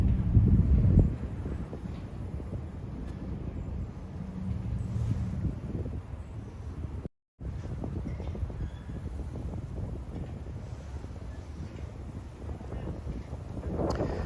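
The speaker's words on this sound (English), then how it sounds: "Gusts currently up to 25 miles an hour. That sounds about right. Winds are pretty strong." Strong winter wind buffets the microphone in continuous low roaring gusts up to 25 mph on a Manhattan street, loudest at the start, with a brief dropout partway through.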